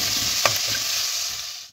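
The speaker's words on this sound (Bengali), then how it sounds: "একটা পেঁয়াজকে আমি কুচিয়ে নিয়েছি, সেটাকে আমি প্রথমে দিয়ে দেবো। দিয়ে ভালোভাবে ভেজে নেবো এটাকে।" Chopped onion frying in a pan for sarson ka saag gives a continuous close sizzle, with a single clink of a spatula against the pan partway through, and no one speaking.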